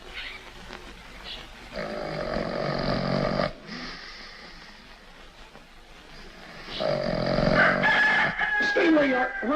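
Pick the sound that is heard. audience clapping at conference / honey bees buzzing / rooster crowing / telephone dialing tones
rooster crowing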